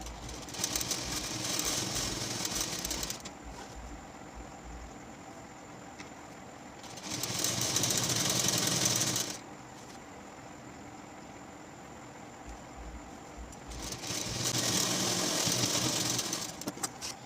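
A sewing machine stitches a lungi in three distinct runs of steady, fast whirring lasting a few seconds each, with quiet hum and pauses in between, close by and loud.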